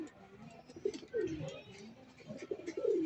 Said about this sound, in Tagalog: Yan sila mga ibon, no?